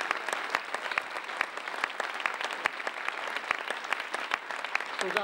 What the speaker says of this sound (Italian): meritano veramente tutto il nostro applauso